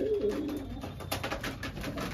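Pigeons cooing inside a loft, soft repeated throaty coos close by over a steady background hum.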